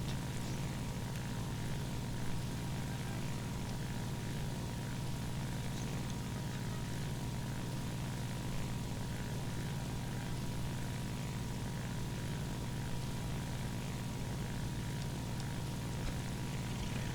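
Steady drone of a Ki-43 II Hayabusa propeller fighter engine at war emergency power in War Thunder, a constant unbroken roar with no talking.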